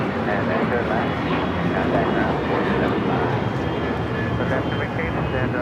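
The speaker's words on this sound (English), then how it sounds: "This takeoff is United Airlines 2729, taking off to Houston Intercontinental on the 737-900ER." A United Airlines Boeing 737-900ER taking off at LAX gives a loud, sustained broadband jet engine roar that holds steady throughout.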